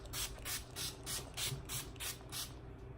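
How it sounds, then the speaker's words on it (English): Wet n Wild rose-scented setting spray is pumped onto a face in a rapid series of about eight short, close hissing bursts at an even rhythm. "Oh, that's a heavy spray."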